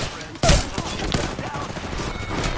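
Video game gunfire breaks out in a sudden loud burst of rapid shots, then keeps rattling in quick volleys over a busy game soundscape, with some player talk mixed in.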